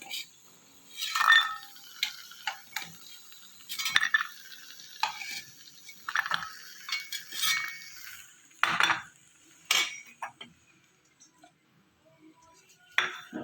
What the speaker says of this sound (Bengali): বড়িগুলো আমার ভাজা হয়ে গেছে, এবার আমি তুলে নেব।